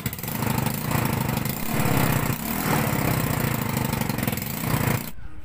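A motorcycle engine with its exhaust muffler detached runs loud and raw, a rapid throbbing putter that swells and dips before cutting out abruptly near the end.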